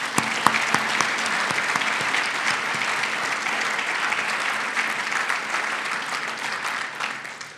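A large audience at a Hall of Fame induction ceremony gives a sustained round of applause for the inductees, a dense, steady wash of clapping that stays loud throughout before tapering slightly at the end.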